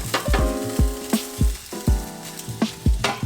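Vegetable dumplings pan-frying under a cover on medium heat, a steady close sizzle broken by repeated low clunks and knocks roughly every half second, with no voices.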